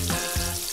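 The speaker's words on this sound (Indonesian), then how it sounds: "Langsung kita berenangin manja di minyak goreng panas." Village chicken deep-fries in hot cooking oil, a steady crackling sizzle with a few sharper pops, close and fairly quiet, with no talking.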